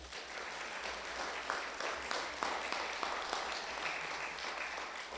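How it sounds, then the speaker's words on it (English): A live-streamed gathering gives applause to the Chief Executive candidates, with faint, distant clapping that continues steadily throughout. "Let's give them all a round of applause."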